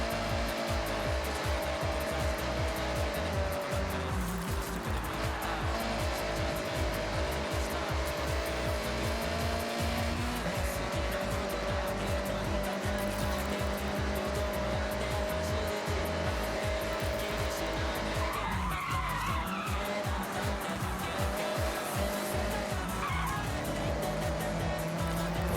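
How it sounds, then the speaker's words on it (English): A car with its stock engine, an Italian exotic in a racing video game, drones continuously at high revs with shifting pitch, and brief tire scrubs and skids break through. The sound is loud and constant throughout, with no talking. "More speed can definitely be put into this car, but I think I more or less maxed out the stock engine already."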